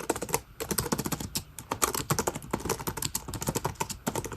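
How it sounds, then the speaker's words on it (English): Rapid typing on a vintage laptop's clicky keyboard, a continuous stream of crisp, close key clicks with brief pauses between bursts. "The keyboard is very nice and clicky."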